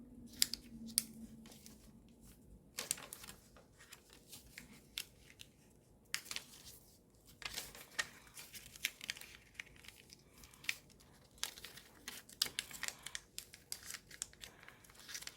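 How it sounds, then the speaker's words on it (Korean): Paper is creased and folded by hand for an origami ninja spinning top, with soft crinkles, sharp creasing snaps and rustles spread in irregular bursts over a quiet room. "이제 이 꼭지점이 가운데에 오도록 접어줍니다."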